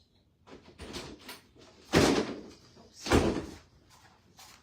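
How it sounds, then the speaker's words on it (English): A door slams shut twice in a room, two loud close thuds about a second apart, following softer rattling and movement, with no voices. "Damn, that door went crazy."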